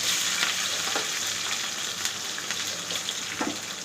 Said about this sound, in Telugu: మనం కట్ చేసి పెట్టుకున్న ఉల్లిపాయలు, పచ్చిమిరకాయలు వేయాలండి